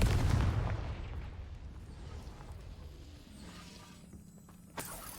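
Deep, booming blast from spell explosions in the Hogwarts Legacy video game, fading into a rumbling decay, followed by a sharper pop near the end, with no talk.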